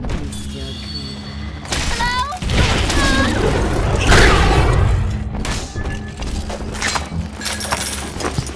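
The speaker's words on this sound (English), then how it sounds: "Mother's people are starting to detonate the charges." Explosive charges detonating in BioShock 2 Remastered: heavy thuds and breaking, shattering debris swell from about two seconds in and peak near four seconds, with a voice speaking through the rumble.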